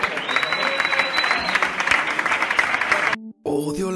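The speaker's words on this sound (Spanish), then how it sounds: "Un fuerte aplauso y el hermano Emilio con nosotros." Church congregation applauding as a brother is welcomed, steady dense clapping that cuts off near the end, followed by a voice speaking.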